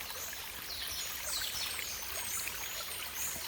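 A small spring-fed stream on a ranch, running toward a river, trickles and gurgles steadily at close range, a continuous soft flowing wash with no other sounds.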